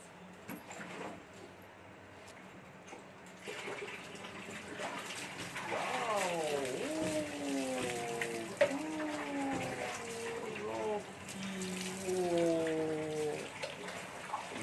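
Water is poured over a dog during a bath, a soft continuous splashing and trickling beneath a voice that keeps talking.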